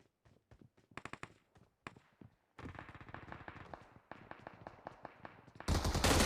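PUBG Mobile gunfire: sharp single shots and short bursts crack in uneven rhythm, then a denser stretch of rapid automatic fire follows, ending in a loud burst.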